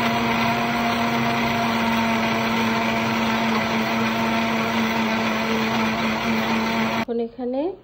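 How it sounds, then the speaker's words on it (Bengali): Kitchen blender whirring steadily at high speed as it mixes pancake batter ingredients, then cutting off near the end as a voice speaks. "এখন এই সবগুলো উপকরণকে একসাথে ব্লেন্ড করে নিব"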